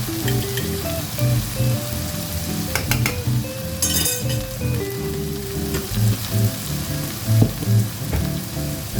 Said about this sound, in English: So I'm going to add the ginger garlic paste,